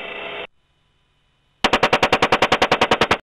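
AH-64D Apache helicopter 30 mm chain gun firing a rapid burst of about sixteen evenly spaced, loud, sharp shots after a short noisy segment and a pause.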